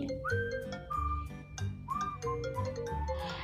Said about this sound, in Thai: และนี่ก็จะเป็นเสียงเรียกเข้าต่างๆ ที่เราสามารถตั้งค่าได้เลยนะคะ